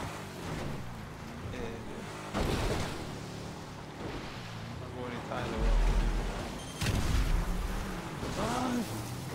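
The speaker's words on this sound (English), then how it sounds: "I hear gunfire" Gunfire in a GTA race within a video game: a few heavy, booming shots burst out at intervals beneath someone talking over steady engine and background noise.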